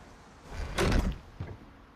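A door slams in the horror video game A Quiet Place, a single heavy impact with a brief rattle and a softer knock after it, fairly close and loud over a quiet room tone.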